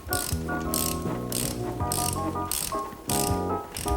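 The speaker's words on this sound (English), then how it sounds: "go ahead and attach the ratchet, reverse the direction of the ratchet, and bring it down until it feels snug" A ratchet repeatedly clicks in short bursts at close range while snugging a spark plug down during a car tune-up, with a quick rhythmic pawl chatter on each stroke and no voices.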